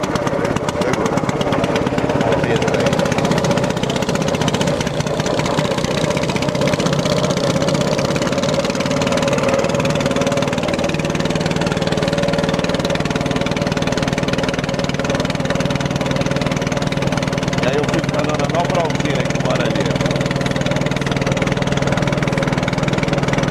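Outboard boat engine on the Jurupari River, pull-cord started and running at a steady idle throughout, loud and close, with a continuous low rumbling drone.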